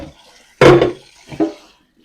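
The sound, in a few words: rinsing gear under running water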